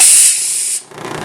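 Steam iron releasing a loud, close burst of hissing steam that cuts off abruptly partway through, leaving a quieter residual hiss and faint rumble behind.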